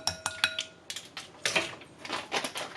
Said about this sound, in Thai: คนให้เข้ากัน